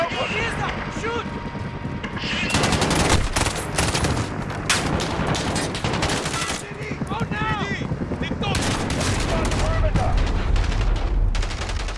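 Rapid gunfire and machine-gun bursts in the Call of Duty Modern Warfare (2019) campaign, loud and continuous over game music and effects, with repeated volleys throughout and a voice shouting beneath the shooting.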